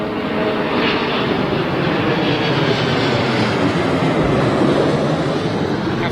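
A Malaysia Airlines A350 arriving at London Heathrow gives a loud, broad, steady jet roar that stays constant throughout, with no voices heard.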